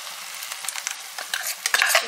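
Blended spinach purée goes into hot oil with ginger-garlic paste for a Telugu palak paneer curry, sizzling and crackling steadily while a utensil stirs and scrapes the pan, close and alone.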